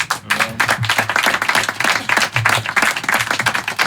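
A small crowd at an intimate VIP concert claps for the drummer, giving scattered, rhythmic applause that stays lively and fairly close throughout.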